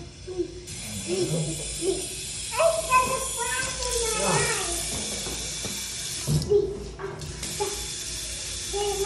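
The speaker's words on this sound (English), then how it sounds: "fill up some water balloons" Tap water runs in a public restroom while water balloons are filled, a steady hissing gush with gurgling shifts in pitch, close by, with people talking over it.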